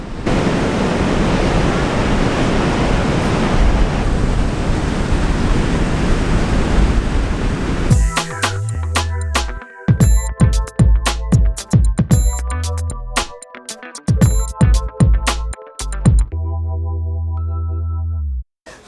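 Storm waves after Storm Gloria wash up a beach around a fisherman monument, a steady roaring surge with wind for about eight seconds before music takes over.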